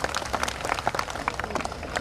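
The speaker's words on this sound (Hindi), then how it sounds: "इस पर तालियां कम बजी हैं आपकी" Audience applause at a poets' gathering during a Diwali fair in Udaipur, scattered sparse hand claps from a crowd, moderate and brief without strong build.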